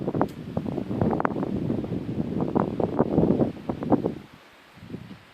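Wind buffeting a microphone outdoors in rural Ubon, a steady low rumbling roar with gusty bursts throughout, easing off near the end.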